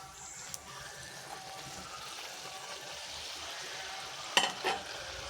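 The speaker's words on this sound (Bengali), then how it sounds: "উল্টো পাল্টা ভেজে দিচ্ছি" Luchi frying in hot oil as it is flipped over, a steady soft sizzle with a brief clatter and splash partway through.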